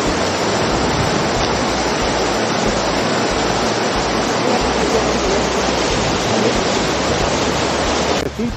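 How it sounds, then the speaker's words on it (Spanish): A waterfall in Andorra la Vella, its steady, dense rushing roar unbroken throughout and heard up close. "mira que chula la cascada"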